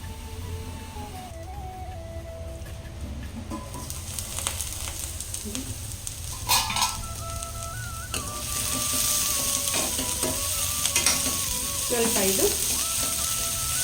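Vegetables for a sagu frying in oil in a pan make a steady crackling sizzle, with occasional stirring scrapes and clinks, and background music running underneath.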